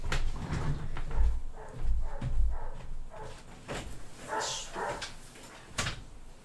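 Dogs at home barking in a few short bursts, fairly close and moderately loud, with some household knocks and shuffling around them and no talking.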